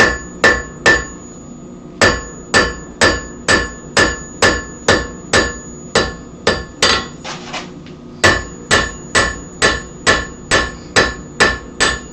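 A hammer peening the worn, flattened end of a steel chisel, sharp ringing metallic strikes in steady rhythmic runs of about one per half second, loud and close, with a short pause midway before the blows resume.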